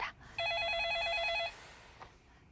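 A telephone rings once for an incoming call during a phone-in stock investment counseling broadcast, a steady warbling electronic tone lasting about a second, loud and clear, followed by faint background noise.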